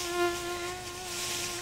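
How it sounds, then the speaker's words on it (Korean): A mosquito whines close by outdoors in a flowering mountain village, a thin steady buzz that swells briefly then holds at a faint, continuous pitch with no talking. "와, 벌써 모기가 있어."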